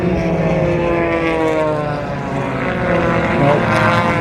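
A 400-horsepower propeller engine on a larger aerobatic aircraft drones loudly and steadily at an air show, the harmonic roar holding and swelling slightly as the plane passes, with no voices.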